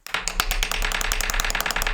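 Rapid, hard tapping rattles along in a continuous close burst, imitating machine gun fire with quick, evenly spaced clicks.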